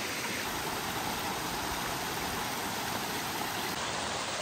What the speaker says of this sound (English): We are crossing a tiny creek.